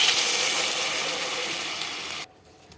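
Water poured over potatoes frying in oil sets off a loud, rushing, broad hiss that slowly eases, then drops away sharply near the end.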